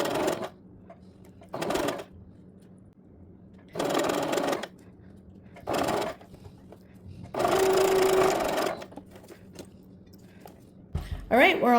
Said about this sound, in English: just with a normal straight stitch on your sewing machine